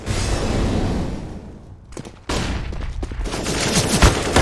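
Rapid bursts of gunfire from Counter-Strike: Global Offensive during a competitive ESEA Advanced Division match, dense and loud with a short lull before heavy firing resumes, sharp shots layered over continuous game noise.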